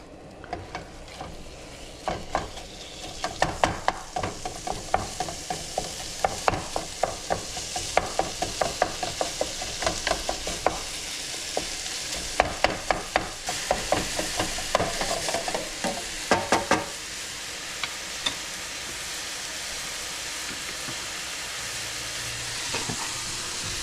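Ground beef fries loudly in a hot pan as a spatula stirs and breaks it up, giving repeated scraping knocks over a steady sizzle. The knocks fade out midway and leave a constant hiss.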